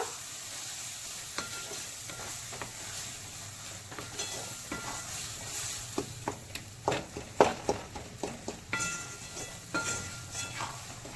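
Stirring chicken into boiled green mung dal for a Bengali chicken tarka: a low steady sizzle with scattered scraping clicks of a spoon against the pot, growing busier and sharper toward the end.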